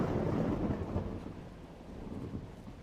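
Heavy rain pours steadily while a deep rumble of thunder swells loud at the start and then rolls off into a lower, sustained growl beneath the downpour.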